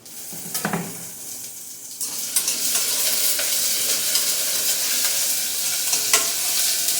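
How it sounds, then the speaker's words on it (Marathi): Chopped coriander leaves hit a hot tempering of cumin, mustard seeds, ginger-garlic-chilli paste and onion, bursting into a loud, steady sizzle with a few spatula scrapes and stirring knocks, close up and without speech. "थोडीशी कोथिंबीर फोडणीमध्ये"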